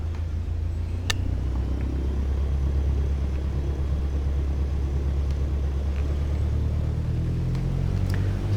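Cessna 152 light aircraft engine at full throttle during the take-off run, a loud steady low drone and rumble with wind noise, continuous throughout with no talk.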